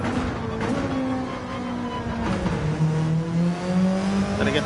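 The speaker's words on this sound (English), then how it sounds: "Then I get the car slowed down." Race car engine at Road Atlanta during a three-hour race, steady loud drone with harmonic tones falling as the car slows, then holding a lower pitch, under continuous road and wind roar.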